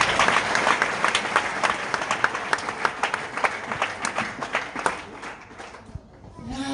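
A church congregation claps together in a dense, steady burst of applause with crowd noise mixed in, tapering off near the end.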